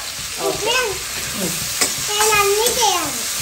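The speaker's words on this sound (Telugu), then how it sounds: "ఇప్పుడు ఫ్రై చేద్దామా?" Basa fish fries in a pan at home with a steady bright sizzle and some stirring, while a child and an adult talk quietly over it.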